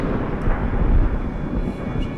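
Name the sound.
thunder in the video game SOMA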